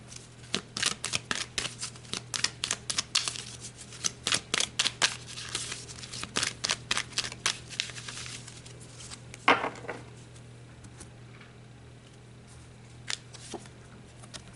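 Tarot cards riffle and snap in a fast run of crisp shuffles, then a few slower slides and flicks as cards are drawn from the deck, close and dry with no talking.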